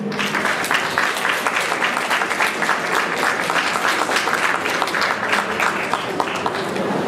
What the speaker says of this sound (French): Sakura Flame, on peut l'applaudir s'il vous plaît.